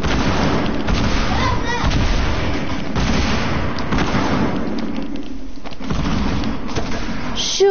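Rapid, dense gunfire and booming blasts pound through a video game battle without a break, loud and close, with a voice faintly mixed underneath.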